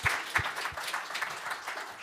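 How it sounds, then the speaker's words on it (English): Brief, faint applause at the close of a science session, a short patter of clapping with a few sharper individual claps. "first an applause"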